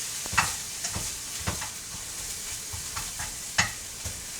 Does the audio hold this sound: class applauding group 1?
no